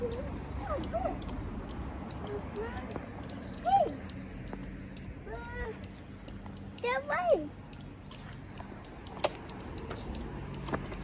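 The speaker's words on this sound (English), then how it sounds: "Yeah, the birds are in a tree." Birds in a tree chirp and call intermittently, with a few louder whistled notes among faint rustling and tapping, while someone talks softly in the background.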